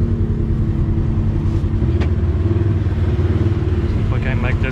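A 2020 Polaris RZR Highlifter side-by-side runs in high four-wheel drive, its engine a loud, steady, close drone that holds through the whole stretch with no break.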